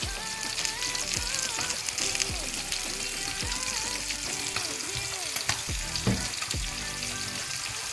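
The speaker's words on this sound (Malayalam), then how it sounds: "मसाला सब डाल के थोड़ा अच्छे से फ्राई करना है." Ground masala frying and being stirred in a pan for pepper chicken curry makes a steady crackling sizzle under prominent background music, with soft scraping strokes scattered through.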